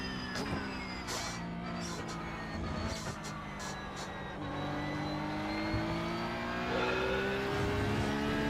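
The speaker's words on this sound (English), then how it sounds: "Lovely sound off the Porsche though, isn't there?" Porsche race car engine pulling hard around a circuit chicane early in the morning, a steady close roar with rising and falling pitch as it accelerates, continuous throughout with no talk.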